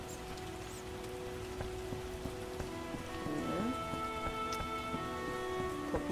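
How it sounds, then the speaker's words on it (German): Rain falling in The Witcher game, a steady soft patter of drops on surfaces that swells slightly partway through, with faint background tones and no talk. "Schaut mal, hier draußen regnet ja doch ein bisschen,"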